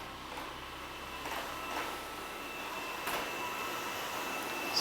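A Dreame Bot W10 robot vacuum mop cleaning a floor gives a steady, fairly quiet whirring hum with faint soft scrubbing and clicks, heard alone without talk.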